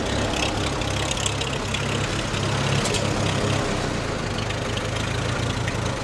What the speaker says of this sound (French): Écoutez-moi ce ralenti.